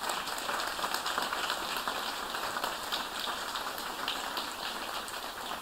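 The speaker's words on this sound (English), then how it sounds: "everybody can give an applause for the people who has done this" A crowd at the unveiling of Elfly's all-electric seaplane claps steadily for the team of engineers, a dense, even patter of hands lasting throughout with no voices over it.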